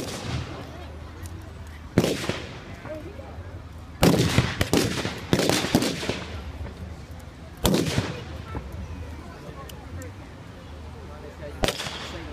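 Gunfire at an outdoor military battle reenactment at an armed forces event: loud blank shots and short bursts crack out at irregular intervals, some sharp and near, over a constant low rumble and scattered distant voices.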